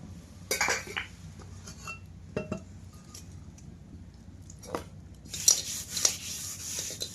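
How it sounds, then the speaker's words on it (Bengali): Ash is rubbed onto the outside of an iron kadai over a wood fire, with scattered metallic clinks, knocks and gritty scrapes, fairly close and quiet, clustering more busily near the end with no speech. "কড়াইতে কিন্তু এখন আগে ছাই লাগিয়ে নেবো"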